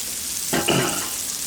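Oil and butter sizzle on a Blackstone griddle, a steady low hiss that swells briefly into a louder crackling burst midway before settling back.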